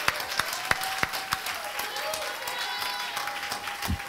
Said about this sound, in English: Give a clap to the Lord.